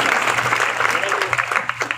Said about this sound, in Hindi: आप तालियां बजाकर स्वागत कीजिए इसका।